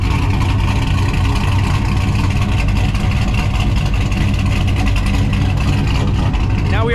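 LS-swapped OBS pickup truck engine running loud and close, a dense steady rumble at a fast idle with a crisp exhaust note, continuous throughout with no talking.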